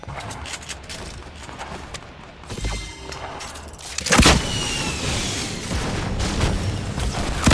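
Gunfire and bursts in the video game Fortnite, with a muffled rumble giving way to a sharp loud crack around the midpoint, followed by sustained dense noisy shots and explosions, no talk over it.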